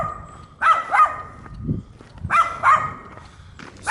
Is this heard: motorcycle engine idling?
no